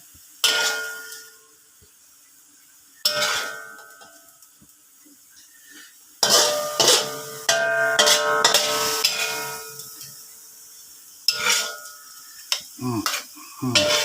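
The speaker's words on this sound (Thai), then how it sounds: "เดี๋ยวมาผัดพริกขี้หนูกัน" Fresh bird's eye chilies stir-fried in a pan for a frog stir-fry: intermittent bursts of a utensil scraping and clanking against the pan, separated by quiet pauses, close and fairly loud.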